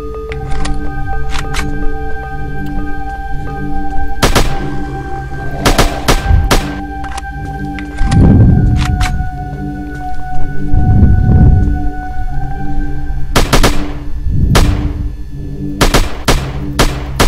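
Gunfire from a shooting video game, with sharp bursts of shots in clusters separated by pauses, over a steady background hum and lower rumbling game effects.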